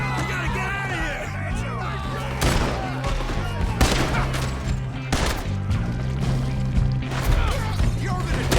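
Gunfire in Red Dead Redemption 2: repeated loud shots crack out in bursts over a steady low rumble, while voices shout throughout.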